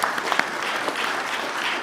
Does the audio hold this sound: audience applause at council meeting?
yes